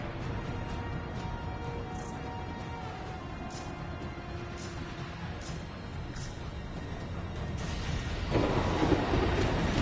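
Thunderstorm rumble from the cataclysmic Heart of Rage storm in the video game Anthem: a dense, steady low roar with crackling texture that swells louder near the end, no voices.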